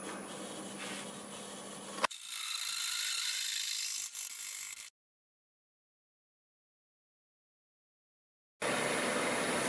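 A wood lathe spins a small segmented glass-shaped workpiece at almost 1,000 RPM, giving a steady whirring hum that is cut off by a long silence before resuming.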